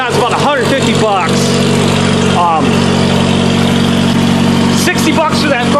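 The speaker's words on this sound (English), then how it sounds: "The truck will be quiet enough that I won't get a ticket" A pickup truck idles with a newly repaired exhaust pipe and muffler, a steady mid-pitched engine drone running throughout while someone talks over it.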